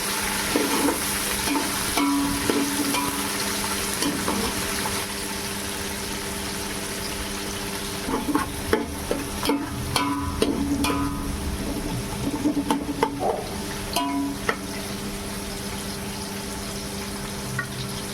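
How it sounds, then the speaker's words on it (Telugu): Onions frying in oil for a home-style pulao, a continuous sizzle with repeated scraping and clinking of a spoon stirring the pan, close and steady, no voices. "ఉల్లిపాయలు కొంచెం యాగనివ్వాలి"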